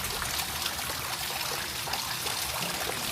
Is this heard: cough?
no